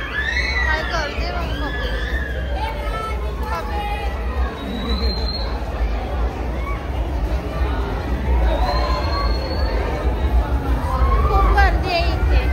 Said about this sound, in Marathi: खूप गर्दी आहे इथे